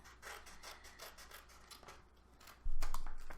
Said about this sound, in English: I will cut all of them up one side, just like this